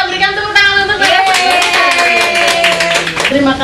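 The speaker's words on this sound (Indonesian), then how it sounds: "kita berikan tepuk tangan untuk mereka" An audience at an Indonesian talk session claps for the speakers. The clapping is a short, close burst layered under music and other sound.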